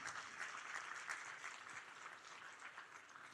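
Faculty audience at a university institute day giving a round of applause, many hands clapping in an even, continuous patter that sounds somewhat distant and soft in a large hall.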